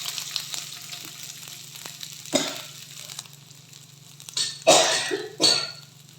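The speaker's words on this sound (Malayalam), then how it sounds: "അതിലേക്ക് ഞാൻ ഒരല്പം ഇഞ്ചി പേസ്റ്റ് ഇടുന്നു" Ginger paste fries in sunflower oil with a soft, steady sizzle close by. Louder bursts of spitting and stirring break in near the middle and end, along with a cough or throat-clearing.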